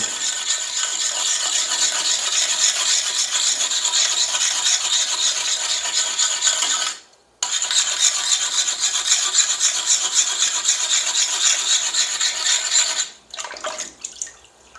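A Pumie scouring stick rubs lightly and steadily over a hard surface, giving a continuous close, bright scratchy hiss that pauses briefly midway and tapers off near the end.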